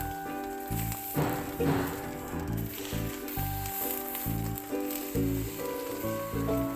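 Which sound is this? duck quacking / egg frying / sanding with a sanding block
egg frying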